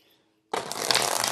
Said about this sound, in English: Let me get the deck shuffled out first before I do the love reading for you.